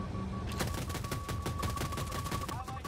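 Rapid automatic gunfire aimed at a stealth chopper in the Battlefield video game, bursts of close, loud shots hammering on almost continuously after a short quiet start, with a steady in-game tone beneath.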